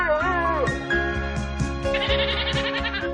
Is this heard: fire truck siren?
no